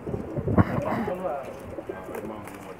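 Pakistani Sharmeela breed male pigeons coo softly in low, throaty rolls close by, mixed with voices talking over them.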